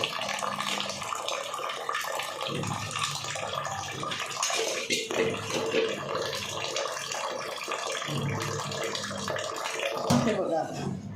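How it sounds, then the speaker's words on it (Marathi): Plenty of water pours over rice set to soak in a kitchen, a steady splashing rush that runs nearly throughout, with a person talking over it. "भरपूर पाणी घालायचं याच्यामध्ये."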